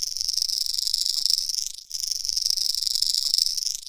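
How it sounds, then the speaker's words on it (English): A traditional 1/4 ounce Rattle Trap lipless crankbait shaken steadily, giving a loud, dense, high-pitched metallic rattle that runs continuously with one brief dip midway. "This is the traditional 1/4 ounce rattle trap, and as we all know, that thing is loud."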